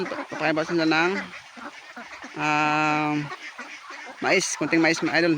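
Pet ducks being fed a little corn quack loudly in bursts, close by, with someone talking over and between the calls.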